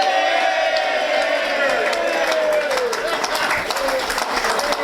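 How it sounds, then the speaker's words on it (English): A crowd at a Lions Club presentation cheers and applauds loudly, with whoops and sustained clapping filling the room from start to finish, voices mixed into the din. "And the crowd goes wild."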